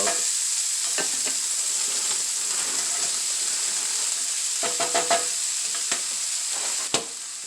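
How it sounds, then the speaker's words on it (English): Shredded potatoes frying in a pan for a budget poor man's hash, a steady close sizzle and hiss broken by occasional scraping and tapping as they are stirred, with a sharper clack near the end. "Go ahead and fry that up."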